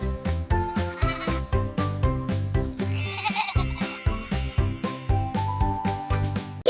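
A goat bleats in a wavering, nasal call rising above a rhythmic, pulsing backing of repeated beats, loud and close throughout.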